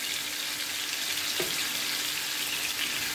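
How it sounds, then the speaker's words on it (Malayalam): Marinated chicken pieces fry in oil over a high flame with a steady, dense hiss that carries on evenly and close up, without any talking. "ഹൈ ഫ്ലെയിമിൽ ഒരു സൈഡ് നമ്മളൊന്ന് ഫ്രൈ ചെയ്യും"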